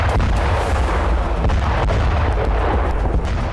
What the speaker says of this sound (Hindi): रूस ने यहां grand multiple rocket launcher system से यूक्रेनी सेना पर बड़ा वज्रपात किया।